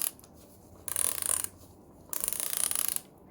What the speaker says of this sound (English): So with the ratchet, you have the ratcheting head, which is not impacting.